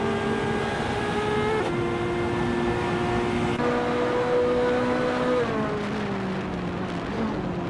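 Race cars in a racing game howl along a front straight while battling nose to tail for the lead, a steady, loud engine whine that shifts pitch with each gear change and acceleration.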